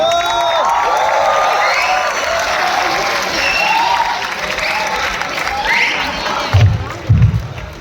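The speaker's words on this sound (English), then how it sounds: "Please give a huge round of applause for them." A large concert crowd at a college festival applauding and cheering as hosts take the stage, a sustained roar of clapping with whoops and shouts rising above it, loud and continuous.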